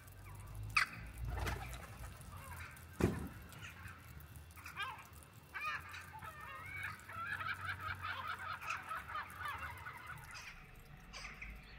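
Geese honk repeatedly outdoors on the first day of spring in Turkey, a busy overlapping chorus of honks and cackles at moderate distance, with occasional louder calls standing out.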